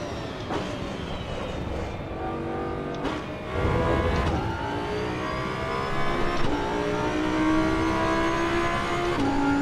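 A Ferrari 296 GT3 race car in Assetto Corsa EVO revs loudly and harmonically, its engine pitch sweeping up through the gears with sharp shift breaks, sustained and close with no talk.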